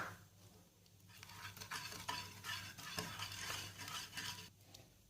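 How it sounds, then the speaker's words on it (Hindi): A hand beater whisks cake batter with eggs in a bowl, giving a steady, continuous rattling swish with busy scraping texture throughout, fairly close and moderately loud, no voices. "तीन से 4 मिनट हैंड बीटर से अच्छी तरह मैंने इसको बीट कर लिया है"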